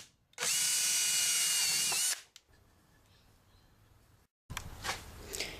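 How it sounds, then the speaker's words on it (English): A power drill bores a hole through PVC pipe, running loud and steady for nearly two seconds, then a quieter stretch of faint handling noise, a gap of silence, and a brief second burst of drilling. "drill a hole straight through there,"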